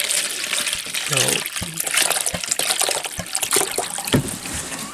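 Clear water pours and splashes into a container set up for low-voltage electrolysis to remove rust, a loud, close gushing trickle with brief speech over it.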